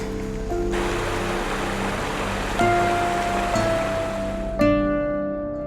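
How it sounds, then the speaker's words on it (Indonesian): Flowing river water in a forest, a broad steady rush and splash like surf or rain, continuous and close, with a few tonal hums and a brief louder splash near the end. "mandi di sungai."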